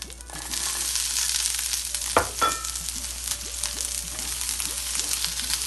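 Capsicum and onion frying in a little oil in a pan, a steady close sizzle with a sharp clatter as the vegetables go in, then continuous crackling with faint scraping, no talking.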